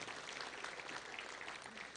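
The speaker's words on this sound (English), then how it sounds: "So let's give a round of applause for all of them." A crowd at a touchdown club luncheon claps for its founding members and board, a full, steady round of applause that carries evenly throughout with no voices over it.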